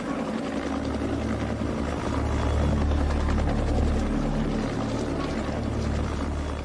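A helicopter waits at a remote fossil dig site to lift blocks of rock holding dinosaur remains, its engine and rotor roaring loud and continuous throughout.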